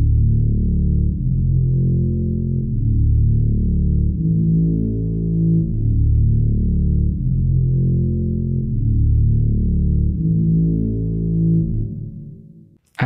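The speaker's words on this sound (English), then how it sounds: "I add a reverb, graphic equalizer, stereoizer, and will be sound like" A dark rap beat built in FL Studio Mobile and run through reverb, graphic equalizer and stereoizer plays alone, with steady, looping low, bassy patterns repeating throughout before cutting off sharply at the end.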